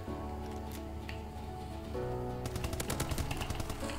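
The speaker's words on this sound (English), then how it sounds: "Someone sniping me" Gunfire erupts in a first-person shooter game, a rapid burst of close, sharp shots in the final half of the clip after a quieter stretch of game noise.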